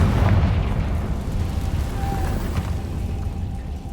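Confringo fire spell in Hogwarts Legacy bursting in a booming explosion, a loud blast at the start that rolls into a long rumbling decay.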